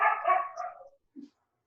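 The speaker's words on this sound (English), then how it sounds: "Sorry about the dogs." Dogs barking in a short burst of several overlapping yelps and barks, fairly close and loud, then fading to silence with one faint bark afterward.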